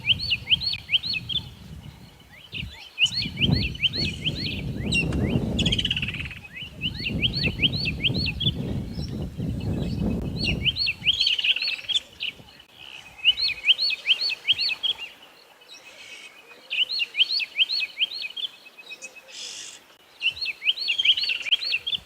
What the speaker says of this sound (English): just to appreciate the amount of different bird calls we're hearing at the moment